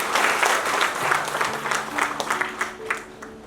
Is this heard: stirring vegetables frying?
no